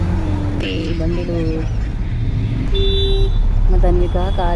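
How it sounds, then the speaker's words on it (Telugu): Road traffic with cars and auto rickshaws passing close by, a steady engine rumble broken by several short horn toots, some in quick repeated bursts, with voices faintly underneath. "కారులు, ఆటోలు అన్నీ పోతున్నాయి"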